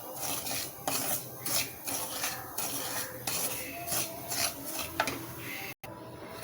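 Rava (semolina) roasts in a pan over a medium gas flame while a spoon scrapes and stirs it, making rhythmic, close scratching strokes with short pauses, alone and without talk.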